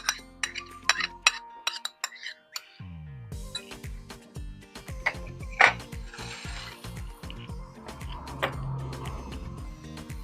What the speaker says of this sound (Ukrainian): Я сюда высыпаю свои креветочки.